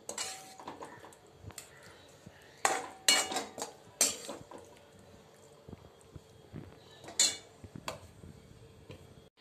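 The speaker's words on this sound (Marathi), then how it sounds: "मी आता डब्यात भरून घेते।" Cooked spring onion greens being spooned into a tiffin box in a home kitchen. Close utensil clinks and scrapes come in irregular bursts, with a few sharper knocks in the middle.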